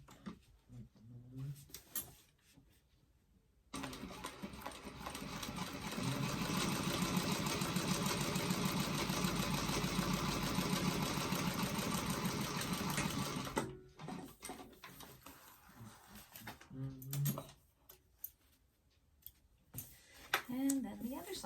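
A walking foot sewing machine stitches leather for a doctor bag in a steady whirring run of about ten seconds, bracketed by short bursts and quiet gaps, with a voice talking near the start and end.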